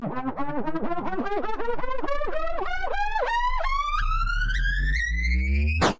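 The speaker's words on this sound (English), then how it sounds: "that is the charge up rocket sound" A synthetic electronic charge-up rocket sound from the game Karlson sweeps steadily upward in pitch with a warbling, stepped pulse, loud and continuous for about six seconds before cutting off abruptly.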